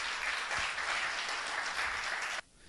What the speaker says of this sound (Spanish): Den un aplauso fuerte a su Dios.